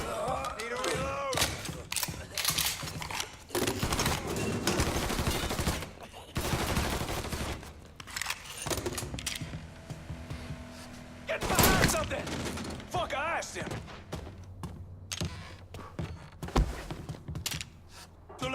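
Gunfire in the video game Mafia 3: loud bursts of automatic fire and single shots crack repeatedly in clusters, with short pauses and scattered impacts between volleys.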